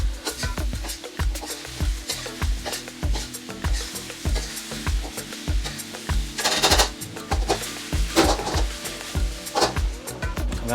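Steak pieces for crispy orange beef sizzle in a thickened orange sauce in a hot pan, a steady close sizzle with repeated rhythmic stirring strokes and a few brighter hissing bursts.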